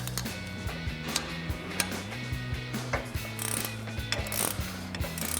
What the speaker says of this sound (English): we're going to use an 18mm pass-through socket and an 8mm socket to grab onto the stud